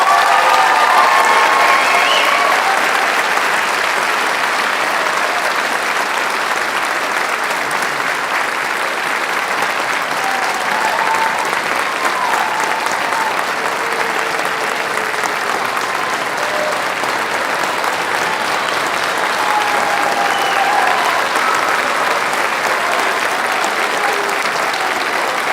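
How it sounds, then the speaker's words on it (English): Sustained applause fills the room at an honors night, a long, even wash of clapping from the audience with faint cheers now and then, lasting well over twenty seconds. "let's give them a round of applause"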